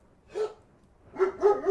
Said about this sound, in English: Oh, jeez, these dogs.